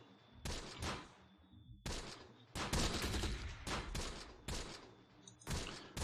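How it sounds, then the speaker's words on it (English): Heavy machine gun fire in the tactical war game Close Combat: The Bloody First, dense bursts of rapid gunshots repeating in several loud volleys with brief gaps between them. "There's the heavy machine gun."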